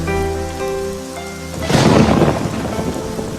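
Thunder sound effect from a poem recitation played during a harvest thanksgiving church service: a soft sustained musical tone gives way to a loud, rolling thunder rumble with steady rain that carries on to the end.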